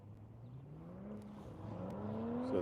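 A Toyota Supra race car pulls away at the green flag, its engine note rising steadily in pitch as it accelerates, moderately loud and growing louder, with no talk over it.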